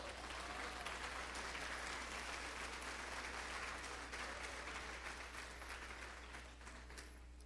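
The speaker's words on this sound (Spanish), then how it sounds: "Alguien dele un aplauso al Señor, hermanos." A church congregation claps together for several seconds, a steady and even wash of applause that sounds somewhat distant, with no talking over it.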